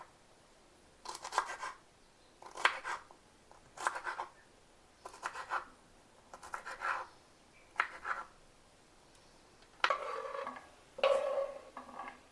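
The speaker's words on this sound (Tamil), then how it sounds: "இந்த அளவுக்கு தான் நம்ம கட் பண்ணணும்." A knife chops meena keerai greens into small pieces on a cutting board, making about ten evenly spaced bursts of close, crisp cutting with brief gaps between them.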